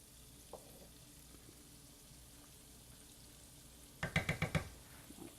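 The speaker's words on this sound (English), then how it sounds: "Add your shrimp back in. Let them finish cooking." Shrimp finish cooking in a pan for lemon pepper shrimp scampi with orzo, a quiet low simmer for several seconds before a brief, louder burst of sizzling and clattering near the end.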